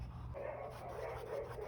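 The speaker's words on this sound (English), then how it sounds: "If you hear dogs barking, my studio is right next to a dog groomer" Dogs at a neighbouring dog groomer bark and whimper faintly through the wall of a painting studio, a low muffled yapping that carries on steadily in the background.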